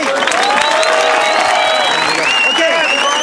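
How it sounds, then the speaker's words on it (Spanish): A crowd applauds and cheers at a 2019 freestyle rap battle, with a dense burst of clapping and voices that are loud and near. "un aplauso por esta batalla"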